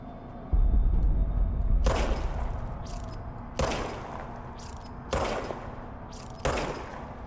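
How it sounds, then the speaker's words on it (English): Service weapon gunfire in the video game Control: four loud, sharp bursts spaced a second or two apart over a low rumbling game backdrop, each shot ringing out with a short decaying tail. "Fire the service weapon"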